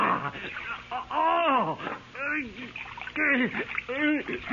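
Feet plunge into a pail of ice water in a 1970s radio mystery drama, a brief close splash that is largely masked by a man's urgent, continuous talking.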